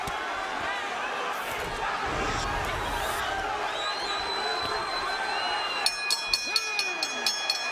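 A boxing arena crowd cheers and roars during the Judah vs Clottey fight, a dense continuous wash of voices with whoops rising over it. Voices talk through it, and a run of sharp regular clicks sounds near the end.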